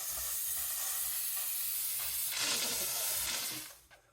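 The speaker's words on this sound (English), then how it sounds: "So just press the button to release steam when desired." Bissell SteamShot Deluxe hard surface steam cleaner releasing steam over a stove top, a soft continuous hiss that swells into a stronger burst midway, then fades out.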